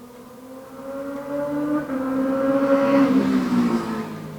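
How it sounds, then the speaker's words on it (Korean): A motorcycle engine hums in the distance and rises louder as it passes by, its pitch shifting as it goes. "오토바이 소리 또 난다"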